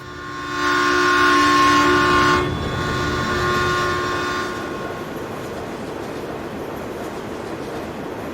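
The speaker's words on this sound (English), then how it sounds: "Here comes the train." A loud train rolls past in the Farming Simulator 19 video game on the Nebraska Lands map, its horn blaring over the rumble for a few seconds before fading into steady wheel and track noise.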